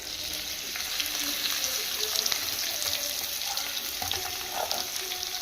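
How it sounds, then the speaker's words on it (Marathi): Finely chopped onion fries in a pan of hot oil with garlic, a continuous bright sizzle heard close up with faint scraping now and then, and no talking. "आता कांदा टाकून घेतो त्याच्यामध्ये."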